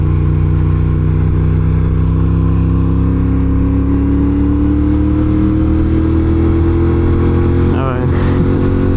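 A motorcycle engine droning loudly and rising in pitch as it accelerates, with a brief shift blip near the end, heard from close by on the bike while people talk over it.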